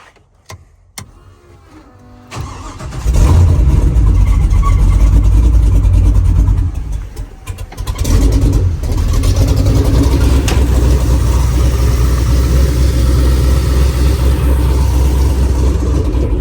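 An LS-swapped Jeep YJ engine cranks over after a few quiet clicks, catches and settles into a loud, steady close-up running rumble, dipping briefly around the middle before holding strong to the end.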